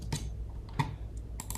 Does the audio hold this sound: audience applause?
no